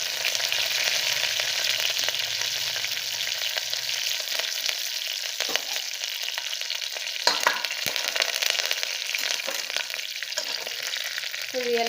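Red chillies and curry leaves crackle and spit in hot oil for a South Indian tempering, a dense steady sizzle with sharper pops and a few louder bursts partway through.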